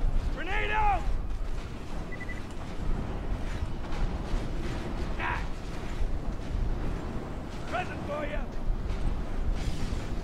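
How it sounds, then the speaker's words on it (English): Gunfire and explosive blasts in the video game Borderlands 2 form a steady, dense, rumbling barrage that fills the whole stretch, while a player talks in short bursts over it. "Someone shooting me?"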